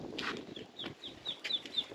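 Young chicks cheep in a farmyard setting, with a few short, high peeping calls mixed with soft, breathy clucking and rustle, fairly close.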